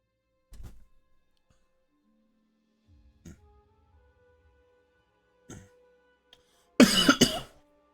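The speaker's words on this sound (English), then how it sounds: "Cough jumped me out of nowhere." A single loud, harsh cough bursts out near the end after a mostly quiet stretch broken only by a few faint knocks and thumps.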